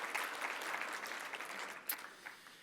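Audience at a gala dinner applauding, a moderate, steady patter of many hands that slowly thins toward the end, heard from a slight distance with no speech over it.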